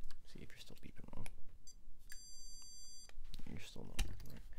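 A steady electronic beep tone sounds for about a second, with voices talking before and after it.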